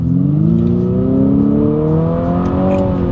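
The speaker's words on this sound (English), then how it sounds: "It's a pretty cool engine sound when you really get on it too." A 2023 Infiniti QX55 engine revs up hard and continuously from a standstill, its droning pitch climbing steadily as it accelerates, loud and close throughout.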